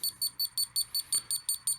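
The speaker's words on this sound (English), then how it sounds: "it will start beeping" A Youmile PWM fan controller alarm beeping in a steady rapid train of about nine short, evenly spaced high-pitched beeps, fairly quiet and close.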